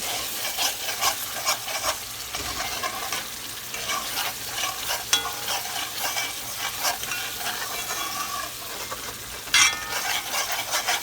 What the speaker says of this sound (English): since we're in the process of cooking the curry, I want to let it fry up